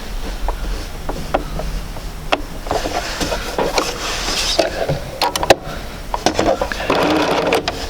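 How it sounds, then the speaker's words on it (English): A sewing machine stitches quilt pieces in short, uneven bursts of rapid mechanical whirring and clatter, with pauses and light handling and rubbing of fabric between runs, close and moderately loud. "I'm going to go ahead and sew that."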